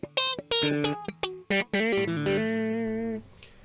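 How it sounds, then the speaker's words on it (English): An electric guitar plays through a Nick Crow TubeDriver pedal set for light distortion, picking a few quick notes and then letting a chord ring out and fade, loud and clear with no talking. "it's actually just a very light distortion, which is nice"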